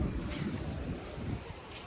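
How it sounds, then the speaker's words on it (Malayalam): Steady outdoor wind rushing and buffeting the microphone, a continuous low roar near the mic throughout, with no talk heard. "നല്ല കാറ്റുണ്ട് കേട്ടോ പുറത്ത്."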